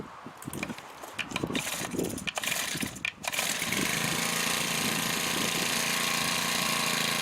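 A Makita EBH252U four-stroke petrol brushcutter is pull-started with a few rattling pulls and catches, then runs close by at a steady, buzzing idle.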